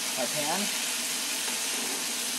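Corn frying in a hot pan with garlic butter, a steady close sizzle and hiss throughout, with a brief voice at the start.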